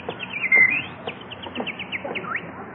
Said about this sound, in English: Oh, Jack, look at that beautiful bird on your lawn